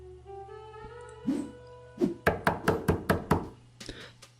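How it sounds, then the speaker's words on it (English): Banging knocks on a front door as an audio drama effect: a couple of dull thuds followed by a quick run of six or seven evenly spaced raps, close and sharp over a low steady hum. "There immediately came a banging on the front door."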